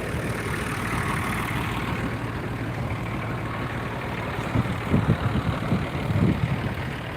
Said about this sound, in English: It's a MF20 with a 3-cylinder Perkins diesel.